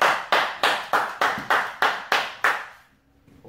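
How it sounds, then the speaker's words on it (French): Audience applause for a boxer introduced before an amateur neighbourhood boxing match, heard as eight loud, evenly spaced claps in a steady rhythm before fading into quiet. "On peut l'applaudir"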